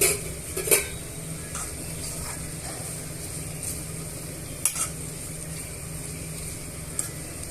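Finely chopped green beans sizzle in hot oil with tempering spices while a spatula scrapes and stirs the pan, with occasional metallic taps over the steady frying hiss.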